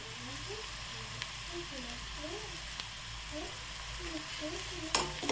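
Turmeric and chili powder sauté with fried onion in a pan for spicy brinjal bharta, a soft steady sizzle with light stirring scrapes beneath a voice talking, ending in a few sharper clinks.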